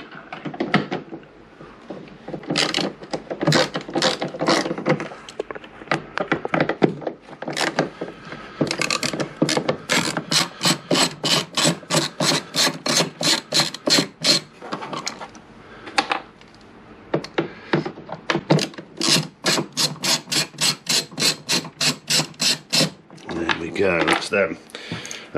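A ratchet with a T20 Torx bit backs out the rear seat bolts on a Peugeot Django scooter. Long runs of quick, even clicks stop and start between short pauses, close and clear.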